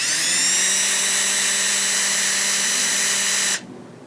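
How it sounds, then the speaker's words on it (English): A power drill bores holes with a 3/16 drill bit into plastic caps, a loud steady high whine running for about three and a half seconds before cutting off abruptly. "I'm basically gonna drill some holes along the bottom of each of these caps"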